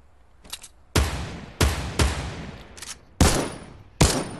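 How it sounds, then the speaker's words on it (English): Six sharp, loud infantry rifle shots fired at irregular intervals in a video game, each a crisp crack followed by a short decaying echo, with no talking. "This is an intimidation rifle"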